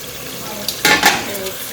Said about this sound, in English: So I'm gonna put it in, stir it, let it cook down